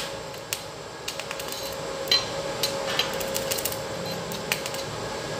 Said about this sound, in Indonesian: Kita akan coba mengelas.